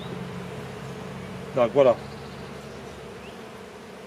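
Mixed Italian and black honeybees hum in a low, steady drone at the hive. A short spoken phrase breaks in partway through, and the buzzing carries on underneath it.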